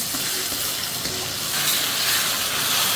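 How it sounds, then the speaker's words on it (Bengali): Water is added to a hot pan with ginger-garlic paste and fried onions, producing a loud, dense hiss and steamy sizzle that swells slightly halfway through and stays steady; no one speaks. "পানি অ্যাড করে দিলাম"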